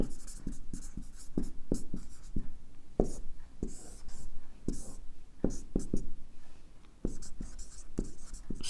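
Strokes of writing on a board come as a steady series of sharp taps and scratchy scrapes, close and fairly loud, with soft murmured speech between them.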